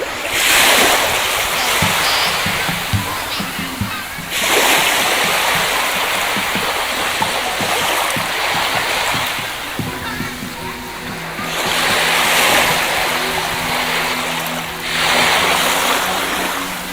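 Surf washing onto a beach at Air Manis, with broad waves swelling and receding every few seconds, steady and fairly loud, while faint voices and a low hum sit underneath.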